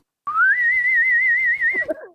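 A single sustained whistled tone imitating the Star Trek boatswain's whistle, rising briefly and then holding a steady warbling pitch for about a second and a half, loud and close, ending with a short voice.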